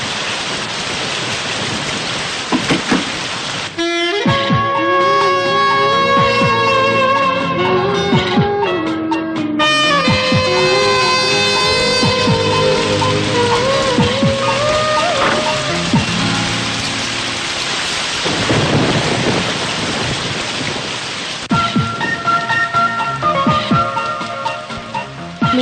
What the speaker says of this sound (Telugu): వర్షం పడుతుంది కదని.